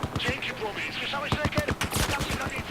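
AK-12 rifle fire in Battlefield 4, a close, rapid string of sharp gunshots in uneven bursts with a faint voice underneath.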